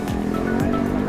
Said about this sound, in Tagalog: May kotse.